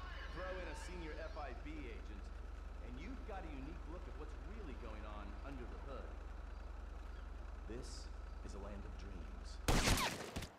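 Gunfire in Grand Theft Auto V: a sharp burst of shots near the end, after a long stretch of busy game noise with steady engine hum, alongside a player talking excitedly.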